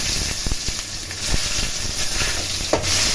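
Dried red chillies and onions frying in hot oil give a steady, close sizzling hiss, broken by a few sharp stirring knocks against the pan.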